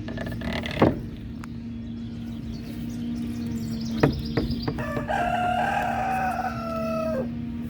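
A rooster crows loudly near a chicken coop over a steady mechanical hum, with clucking and a few knocks in the background.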